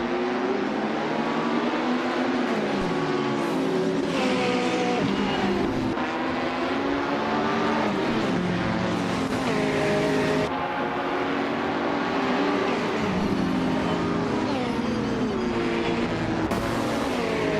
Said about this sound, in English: Yambo in the GTE class is starting on pole, driving a sleek 2017 Porsche 911 RS-R